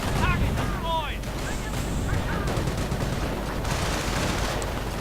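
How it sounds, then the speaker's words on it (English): MG-42 machine gun fire in a World War II strategy game with German Wehrmacht forces against US and Commonwealth troops, rattling within a dense, continuous mix of battle noise, whistling tones and voices. "we're finding an MG-42 suppressing all the British and combined American troops"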